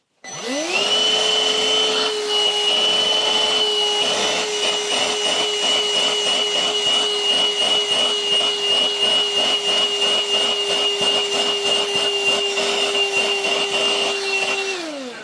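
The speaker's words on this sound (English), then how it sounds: "let's see how well vacuum works. And I have the crevice tool this time" A Bissell Pet Hair Eraser vacuum cleaner with crevice tool, used on fur, whines up to full power and runs steadily at a loud, constant pitch, then winds down at the end.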